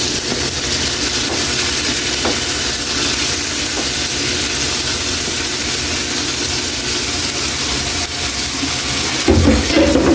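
Pork tipped into a hot pan with onions for sotanghon guisado hisses and sizzles steadily and loudly throughout, with a sharper burst of frying near the end.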